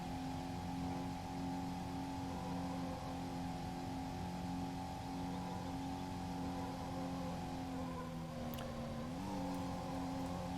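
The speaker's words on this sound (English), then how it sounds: "So I'll shut up a bit so you can hear the engine noise a bit more." Porsche engine in the racing game Need for Speed: Porsche Unleashed holds a steady, moderately loud drone for about ten seconds, its pitch dipping and rising briefly near the end as the car works through country-lane driving.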